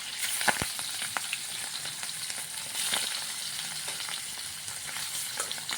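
Boal fish pieces fry in hot, splattering oil, giving a loud continuous sizzle dotted with sharp pops and crackles.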